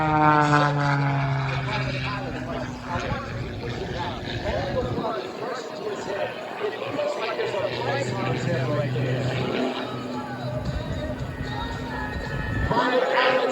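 A propeller aircraft flown by a Red Bull pilot at an airshow at Willow Run Airport drones overhead with a rising and falling engine pitch, heard under a commentator talking over loudspeakers.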